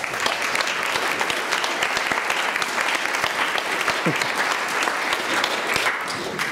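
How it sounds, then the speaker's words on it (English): An audience applauds students at a college speaking event, a dense, continuous wall of many hands clapping at a steady, loud level for the whole stretch. "I want to applaud you guys for all of your work"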